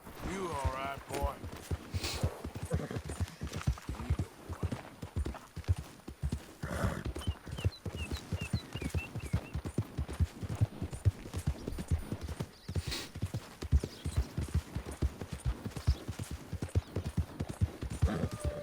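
Rapid hoofbeats of a galloping horse in Red Dead Redemption 2 pound steadily throughout, with a brief whinny early on and someone talking over the rhythm.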